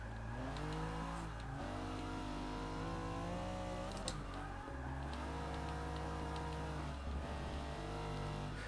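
Race car engine in Forza Motorsport 6, a loud continuous drone that climbs and drops through gear changes as the car slides through corners, with no talk over it.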